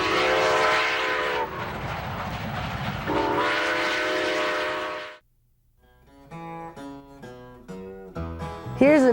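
Lego toy train made entirely of Lego blocks running on a Lego layout, with a loud sustained whistle-like tone over rumbling, then a pause and a series of short tonal toots rising in loudness, no talk.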